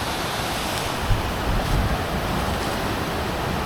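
Flood water rushes loudly and continuously in Na Dom district, Thailand, a dense, roaring wash of sound with no pauses, heard close up.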